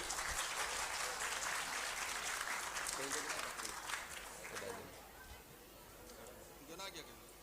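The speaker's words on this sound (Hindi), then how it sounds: "तालियां तो होनी चाहिए थोड़ी।" An audience at a school talent hunt program breaks into lively applause with cheering voices mixed in, loud at first and gradually thinning out as murmuring talk continues.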